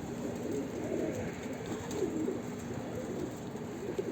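Low, soft Mardin pigeon coos murmur steadily at close range under a constant background hum, with no voices.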